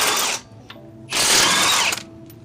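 Socket ratchet loosening the lug nuts on a front wheel of a 2003-2008 Infiniti FX35 with a 21mm socket, two bursts of rapid clicking with a short pause between, close and fairly loud, no talking.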